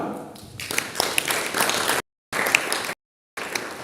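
Conference audience applause: a dense spread of many hands clapping, building in the first half second, then continuing strongly with two abrupt cut-outs into silence.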